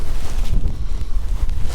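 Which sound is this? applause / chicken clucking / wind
wind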